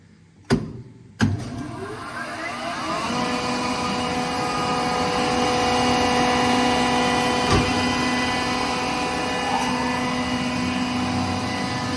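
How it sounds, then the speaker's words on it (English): A Kaeser screw compressor starts with two sharp clicks, then spins up into a steady mechanical hum with a high whine that builds and holds, loud and continuous with no talking. "I will start the compressor and see how it's working"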